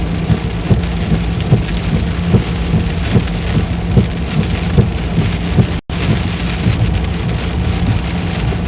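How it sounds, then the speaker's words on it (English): Heavy rain pours down hard after a drizzly day, a loud, close, continuous roar with rhythmic low thumps and one brief dropout near the end. "this rain is hard too"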